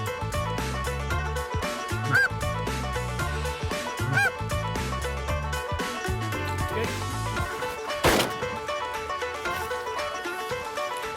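A flock of geese honks repeatedly and loudly at close range, calls overlapping in a busy chorus with a few sharp thumps.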